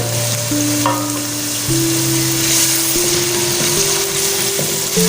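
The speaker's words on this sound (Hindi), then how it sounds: "हम तब तक जो है ना प्याज़ों को अच्छे से ब्राउन करते हैं" Onions browning in a pan for village-style baingan bharta, a loud continuous frying sizzle with a steady hum, no talking.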